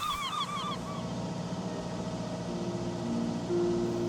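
Seagulls crying over open sea off Greece, a run of high, falling calls clustered near the start and fading out, set against a steady wash of wind and engine rumble.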